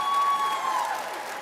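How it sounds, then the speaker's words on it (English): Audience applause at a taekwondo school's Christmas party, a brief burst of steady clapping from a crowd, fairly loud and close, with a faint tonal ring running through the first half. "Give them a little round of applause."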